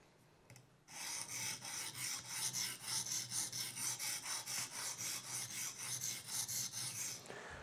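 A small, very hard S90V steel knife is sharpened on stones, with steady back-and-forth rasping strokes in an even rhythm, close and fairly loud, and no talking.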